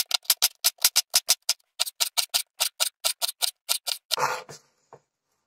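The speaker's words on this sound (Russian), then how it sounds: "Теперь нарезаем лук мелкими кубиками." A knife dices onion finely on a cutting board for chopped cutlets, producing rapid, evenly spaced loud chops close by, about two dozen in quick succession, ending with a brief scraping sweep.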